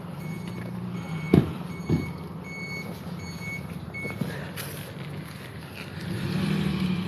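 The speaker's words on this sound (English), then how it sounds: "And there goes the paddy wagon." A police paddy wagon pulls away on a Vancouver street, a low engine rumble with intermittent reversing-style beeps and a couple of sharp knocks, at moderate distance in steady traffic ambience.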